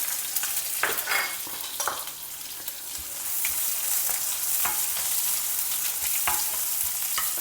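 Sliced onion sautés in about two tablespoons of hot oil with mustard and cumin seeds. A steady close sizzle runs throughout, with frequent scraping stirs from a spoon in the pan.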